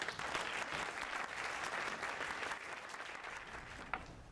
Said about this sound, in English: give a round of applause to anyone who has served our country and defended it